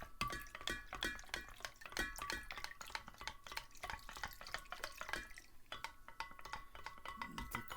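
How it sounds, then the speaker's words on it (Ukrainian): Bentonite clay is stirred into homemade wine with quick, repeated strokes, and a utensil clinks against the vessel in a steady rhythm. The liquid drips and sloshes softly and faintly nearby. "тепер вливаємо тоненькою струйкою і перемішуємо"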